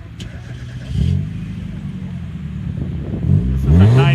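A 1997 Mazda Miata with a loud exhaust cranks and fires up at an outdoor car show, its engine rumbling and revving near the end while people talk over it.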